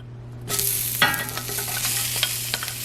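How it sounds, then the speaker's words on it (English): Onions dropped into a pan over medium-low heat burst into a sharp sizzle, followed by steady frying hiss with a few scraping stirs, close and clear. "I'm gonna go ahead and add the onions in"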